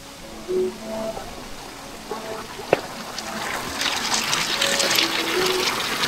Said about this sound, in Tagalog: Ganda ng falls dito.